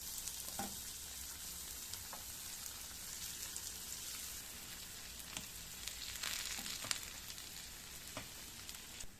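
Potato rösti fries in butter in a pan, giving off a constant bright crackling sizzle with occasional louder pops and spatters, close up and without talk.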